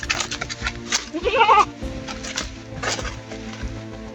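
A goat bleats loudly and close by in a strained, wavering cry lasting about half a second, set against busy outdoor background noise with a few other brief animal calls.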